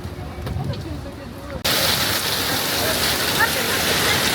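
Rain falling outdoors in Malaysia, starting as a light patter and then jumping abruptly into a loud, steady, dense downpour that hisses continuously to the end.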